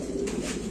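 Lahori pigeons at a pigeon farm give a brief, soft coo close by, over faint background noise.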